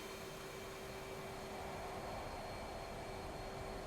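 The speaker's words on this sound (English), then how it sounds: "So throttles to full afterburner," An F/A-18C Hornet's jet engines roar at full afterburner during takeoff in DCS World, a steady broadband rushing rumble with a faint constant tone, heard alone and holding even loudness throughout.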